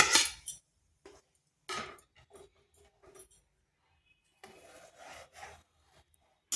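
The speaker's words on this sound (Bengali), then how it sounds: "এটা এইভাবে 5 থেকে 7 মিনিট নাড়াচাড়া করে নিতে হবে।" A spoon scrapes and rubs through a sago and semolina mixture in boiling water with cardamom, in short gritty bursts separated by pauses, close up and fairly quiet.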